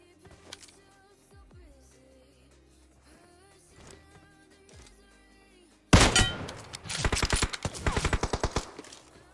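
Sniper rifle gunfire in the PUBG Mobile video game: quiet in-game thuds and background tones, then a sudden loud burst of rapid, close shots that keeps cracking to the end.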